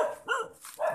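A dog in a lychee orchard barks in quick, close, loud yaps, about three in a second.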